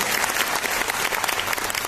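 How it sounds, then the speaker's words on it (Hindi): An audience at a Netsurf program in Rajkot breaks into dense, continuous applause, loud and even throughout with no pauses. "एक बार जोरदार ताली आपके जज्बात से"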